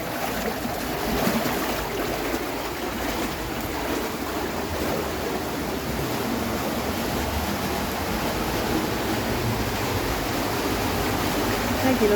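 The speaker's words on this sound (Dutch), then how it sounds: "Er wordt een hoop geborrel." Stream water bubbling and rushing at the Los Tilos waterfall in the Bosque de Los Tilos on La Palma, a steady broadband wash of flowing water that continues without break, close and fairly loud.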